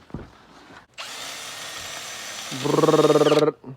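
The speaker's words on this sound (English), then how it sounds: "Mowing it, sweeping it back in the basket." A lawn mower with a grass-collecting basket runs on low speed, giving a steady whirring motor drone for about two and a half seconds that turns into a rapid pulsing rattle before cutting off.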